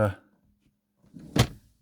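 A sliding wardrobe door in a small bathroom space is pulled out, making a brief rolling slide that ends in a solid thunk, with a voice heard just before.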